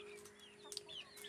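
Native chickens clucking in a farmyard, a few soft, scattered clucks over a steady low hum, fairly faint and without talk.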